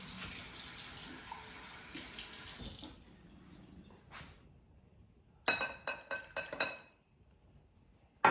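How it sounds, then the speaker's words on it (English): Water from a tap trickles and splashes into a glass baking dish holding prepared apples, faint at first, followed by several light glassy clinks and a short splash near the end. "And the last step would be to pour a 1/4 cup of water on the bottom of the dish."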